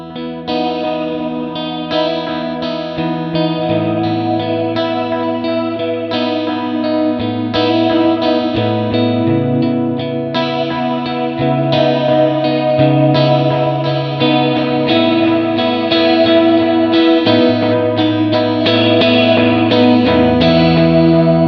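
Electric guitar plays chords and riffs through heavy effects using a Strymon Big Sky pedal's cab simulator, with a chorused, slightly distorted tone and a steady, full sound throughout.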